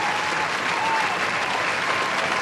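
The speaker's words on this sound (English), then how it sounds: "All right, Charlie, can you give him a round of applause with your magical keyboard?" A canned round of applause triggered from a sound-effects keyboard on a radio show, a steady wash of crowd clapping at even volume for a couple of seconds.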